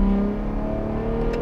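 Ford Raptor R V8 on its stock exhaust, in manual mode with traction control off, holding a loud, steady, deep engine drone close by, with no talk over it.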